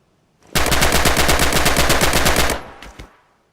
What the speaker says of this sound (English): Use blind fire now and see what you can hit.